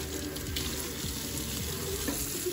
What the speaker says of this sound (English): I'm gonna rinse it off a bit.